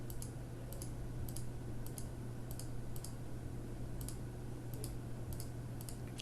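A computer mouse clicks repeatedly while a mask is drawn on footage in compositing software, small crisp clicks in uneven clusters over a steady low background hum, close and quiet, with no talking.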